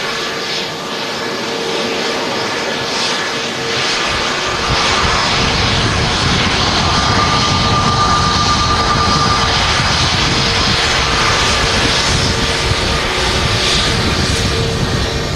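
A jet airliner, an Airbus Neo arriving on a short hop from Amsterdam at Manchester Airport, gives off a steady broadband engine roar that swells after a few seconds and holds loud and continuous, with no talking over it.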